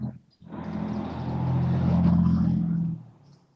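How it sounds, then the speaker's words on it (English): A motor vehicle, motorbike or car, passes on a motorway, a low engine rumble rising and swelling for a couple of seconds before fading away. "I hear a motorbike, was it, or car?"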